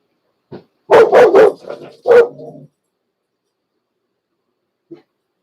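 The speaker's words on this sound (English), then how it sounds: "cats outside, dogs are barking" A dog barks outdoors in a quick cluster of several loud, close barks followed by a short whimper, then silence and one faint yip at the end.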